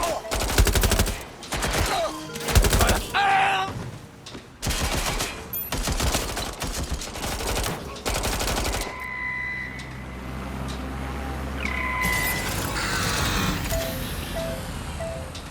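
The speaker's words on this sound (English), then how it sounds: "Robot's gonna shoot you! I can't get a shot in! I'm taking fire!" Gunfire rings out in a Watch Dogs: Legion shootout on PS5, loud repeated bursts and volleys up close during the first half, then fading into game ambience with electronic tones.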